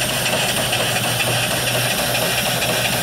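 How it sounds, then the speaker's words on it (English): A model mill steam engine with a flyball governor, 3-inch bore and 4-inch stroke, runs steadily nearby, giving a continuous mechanical chuffing hum with light rattling and no voices. "The mill engine."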